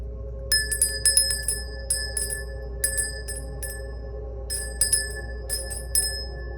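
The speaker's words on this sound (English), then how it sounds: "let's go ahead and cleanse the space by ringing the bell" A small bell is rung to cleanse a space, struck in quick bursts of bright, ringing chimes with short pauses between clusters, over a steady low hum.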